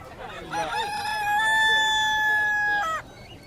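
A rooster crows once at a bird market in Abu Arish, Jazan, Saudi Arabia, a long drawn-out call rising and holding before cutting off, with quieter chicken clucking around it.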